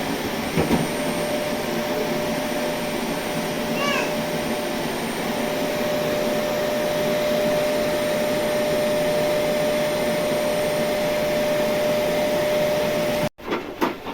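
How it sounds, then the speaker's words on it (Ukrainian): A vacuum cleaner runs in a bathroom with a continuous loud, steady whine and hum for about thirteen seconds before cutting off abruptly. Only a few faint clatters follow, and no one speaks. "Поки моє сонечко там пилососить у ванні"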